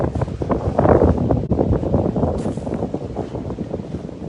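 Wind blows outdoors over open water, making a loud, blustery rush that buffets the microphone and rumbles steadily throughout.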